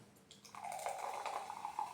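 Peach-flavored Fanta soda pours into a glass with a soft fizzing, bubbly hiss, close and quiet, lasting a couple of seconds.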